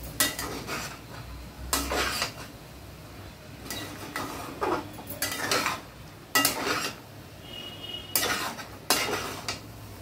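Red amaranth greens and shrimp stirred in a pan, with a series of sharp scraping clinks of a utensil against metal coming in regular bursts about every second or two, close and fairly loud, with no voices.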